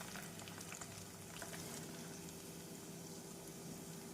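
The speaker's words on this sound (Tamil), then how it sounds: "எண்ணெய் சூடானதும் மீடியம் ஃப்ளேமில் வைத்து பக்கோடாவை போட்டு விடலாம்." Pakoda made from pearl millet flour deep-fries in hot oil over a medium flame, producing a steady, dense bubbling sizzle that holds even throughout, with no voices.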